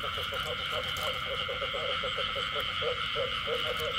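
Small frogs croaking in a steady rapid chorus of short repeated calls over a constant buzz of night insects, heard outdoors in the Mekong Delta countryside during a rainy-season frog hunt.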